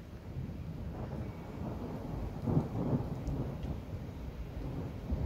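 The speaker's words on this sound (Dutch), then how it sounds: "Wat je nu hoort aankomen, is de regen." A low, continuous rumble of an approaching storm with faint rain hiss building, steady and distant, no voices.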